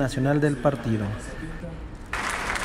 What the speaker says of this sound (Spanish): Interminables aplausos se escucharon de los invitados presentes